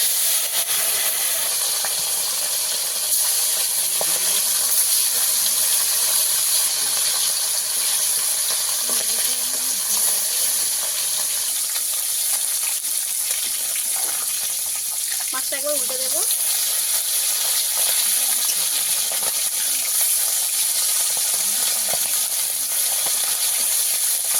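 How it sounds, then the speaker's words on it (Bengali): Bata and fali fish fry in hot oil in a wok, making a loud, continuous hissing sizzle with steam that holds steady the whole time, while faint clinks and brief voices sit underneath. "কড়া গরম হয়ে গেছে মাছ দিয়ে দেবো"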